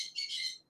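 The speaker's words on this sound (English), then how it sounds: "those birds, they just happen to be very, very loud" Pet birds kept indoors give one loud, shrill call lasting under a second, close and piercing, with no other sound around it.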